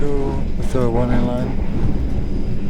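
Interior of the nearly empty Argo Parahyangan passenger train in Indonesia, a constant low rumble and hum of the running carriage beneath someone speaking close by.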